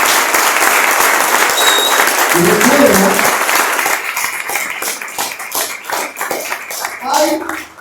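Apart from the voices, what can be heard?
congregation applauding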